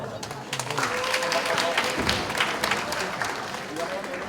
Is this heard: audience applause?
yes